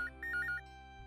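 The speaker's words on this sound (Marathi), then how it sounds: "मला दुसरा फोन येतोय" A mobile phone ringtone sounds for an incoming call: a short run of bright, repeated electronic tones over a steady background hum, then stops.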